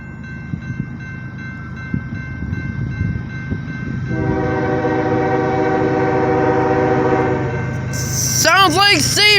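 A freight train rumbles steadily past at close range while its horn sounds a sustained chord, ending in loud, wavering blasts.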